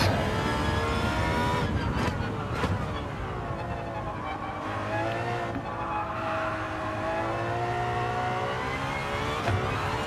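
An Aston Martin Valkyrie in Gran Turismo 7 accelerates out of a corner on throttle, its loud, high-pitched engine rising and shifting pitch continuously through the gears, close and unbroken.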